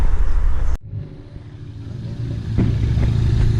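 A Datsun 240 engine at a car meet runs loudly at close range, drops abruptly after a sharp cutoff, then builds back up with rising revs and clattery engine noise.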